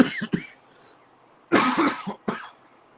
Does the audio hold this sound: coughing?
yes